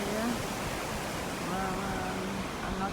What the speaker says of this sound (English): just by the river here